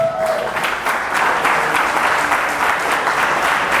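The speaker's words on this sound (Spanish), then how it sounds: "Dale un aplauso al Señor" Congregation clapping for the Lord at a church retreat in El Salvador, steady dense applause throughout with faint voices underneath.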